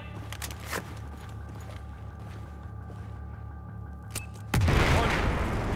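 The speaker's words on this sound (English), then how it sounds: "Blow the damn wall. Fire in the hole, everybody!" A wall is blown open by an explosion in the video game Battlefield 4: a sudden loud, deep blast lands near the end and rumbles on, following a steady mechanical background hum.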